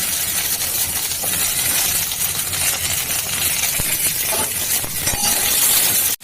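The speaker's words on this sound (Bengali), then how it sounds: "এই আলুগুলো দিয়ে দিচ্ছি।" Boiled potatoes tipped into a pan holding cauliflower and peas for a poppy-seed curry, giving a dense run of clinks, rattles and scraping over a steady broadband hiss, fairly loud and close, with no talk.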